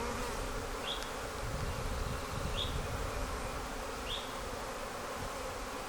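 Agitated honeybees buzz around an opened Flowhive, a dense, steady hum filling the air with a few sharp higher whines darting past at intervals, no voices.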